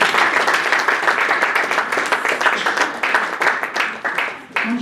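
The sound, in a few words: audience applause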